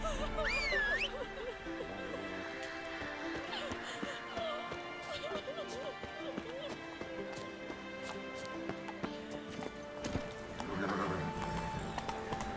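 Roach the horse galloping in The Witcher 3, a steady run of hoof clip-clops with a brief whinny early on, mixed with game music and voices.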